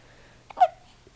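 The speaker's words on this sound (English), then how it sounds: "I have the hiccups" A single sharp hiccup, close and fairly loud, rising out of a quiet room with a faint steady hum and a small breathy sound just after.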